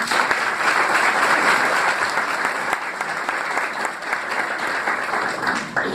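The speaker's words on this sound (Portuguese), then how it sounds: "Vamos aplaudir a palavra de Deus." Steady, dense applause from a crowd at a prayer group meeting, sustained and fairly loud throughout with no pauses.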